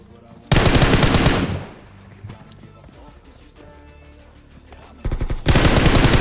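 Bursts of Groza assault rifle fire from PUBG Mobile, loud and rapid, with a long automatic burst at the start and another toward the end, quieter game ambience between.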